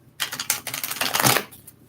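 Cards being shuffled up close, a rapid flurry of crisp riffling clicks lasting over a second before settling.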